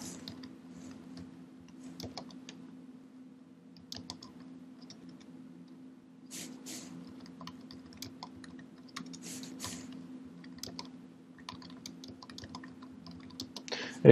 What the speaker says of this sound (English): Let me type out what it does for you.